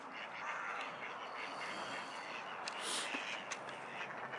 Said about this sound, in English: We got ducks there.